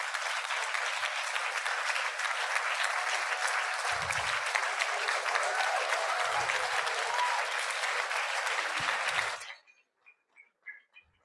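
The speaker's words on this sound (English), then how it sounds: "please give them a warm applause if you can give." An audience at a Bala Vihar graduation ceremony applauds the teachers. The sustained, even clapping goes on for about nine seconds and then cuts off into a quiet room with a few faint sounds.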